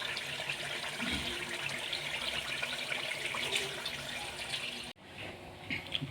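Water is poured from a vessel into a simmering masala for potato kofta, a continuous splashing pour that stops abruptly, followed by soft sizzling.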